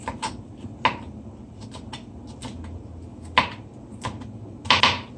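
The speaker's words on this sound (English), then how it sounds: "The pepper, just a little small piece. We're gonna cut it as fine as possible." A knife chops a small piece of hot pepper on a cutting board for Jamaican ackee and rice, giving sparse, sharp, close taps at irregular intervals, with a quick double strike near the end.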